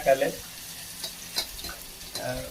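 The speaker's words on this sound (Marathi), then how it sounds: "आमटी फोडणी" Tempering for amti, a Marathi dal, crackles in hot oil in a home kitchen, a steady close sizzle with a few scraping stirs of a spoon and no voices.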